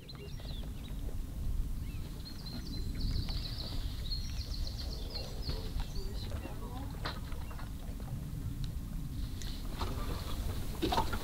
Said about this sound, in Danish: det klukker for båden af på den helt rigtige måde, og man hører fuglene, der synger inde på land